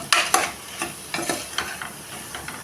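Vegetables with beetroot being stirred and sautéed in a pan for a beetroot kurma, with a spoon scraping in repeated strokes over a steady sizzle, close and clear.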